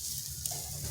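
Boiled potatoes frying in a pan with no water added: a soft, continuous sizzle with a faint scrape of stirring, close but quiet.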